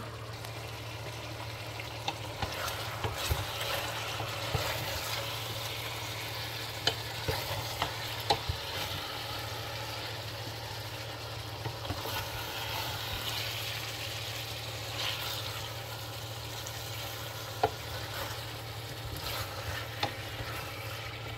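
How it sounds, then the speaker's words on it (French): Fish broth with sorrel is stirred in a cooking pot, giving a soft, continuous scraping and gentle sizzle with light clinks, steady and close with no talking. "Je vais bien mélanger et je ne vais pas mettre de l'eau tout de suite."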